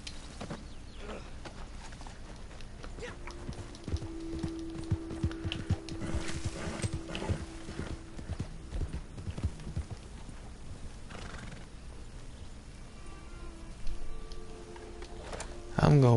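Horse hooves clip-clopping in the Western video game Red Dead, a rhythmic trotting clatter with a whinny, under a player's chatter.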